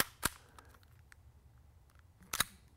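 An airsoft pistol slide snapping forward during tactical handgun training, heard as two sharp, crisp metallic clacks, one early and one near the end, over a quiet background.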